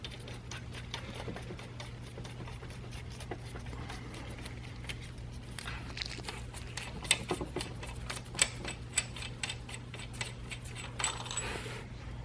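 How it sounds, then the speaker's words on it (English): Cam gear bolts on a 2000-2004 Ford Focus Zetec being backed out by hand, a quiet series of small metallic clicks and ticks over a steady low hum, close and faint. "now I'm going to just back these out, these cam gear bolts by hand"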